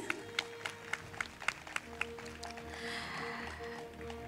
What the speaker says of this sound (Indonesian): Boleh berikan tepuk tangan Bapak dan Ibu sekali lagi.